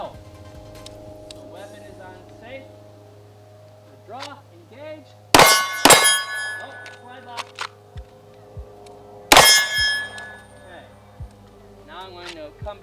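Two sharp metallic pistol shots ring off steel targets during a Glock 19 Gen 4 range drill, each impact leaving a bright clanging ring, with quiet talk and handling sounds between them.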